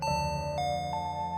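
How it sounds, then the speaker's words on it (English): A doorbell chimes with a clear electronic ding-dong, ringing out twice in quick succession over a steady background hum, with no voices present. "Then, the doorbell rang once more."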